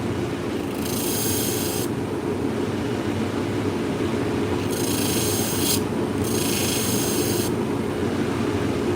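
Olsen-Hegar needle holders being sharpened, with a few rasping strokes of steel against an abrasive that stand out over a steady low hum of machinery.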